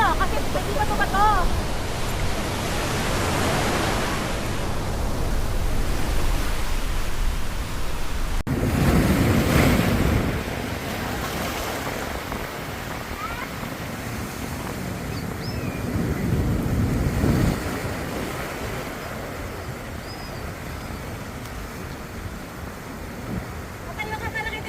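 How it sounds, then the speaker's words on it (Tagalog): Ocean waves breaking on a rocky shore at Malapad, Real, Quezon, a continuous wash of surf that swells and eases, with a heavier surge around the middle and wind over the microphone. "Ang ganda ng alon."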